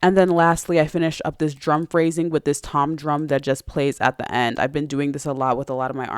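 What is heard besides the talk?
No everyday noise stands out behind the speech.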